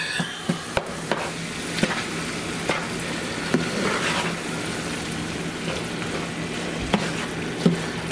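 A frying mixture sizzles steadily in a pan while a utensil stirs it, sharp clicks and scrapes against the pan sounding at irregular intervals over the constant hiss.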